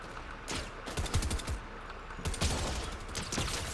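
Video game gunfire crackles in several rapid bursts of automatic fire, loud and close, with short gaps between volleys and no talk over it.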